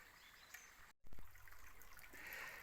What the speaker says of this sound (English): Just hear that little trickle of water.